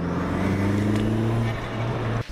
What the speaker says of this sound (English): The turbo's now going.